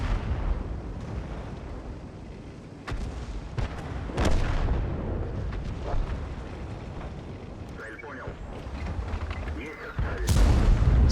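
Tank cannon fire and shell impacts in World of Tanks, with an A-44 under attack. Heavy booms and a rumbling battle bed run throughout, and a voice talks over them at times.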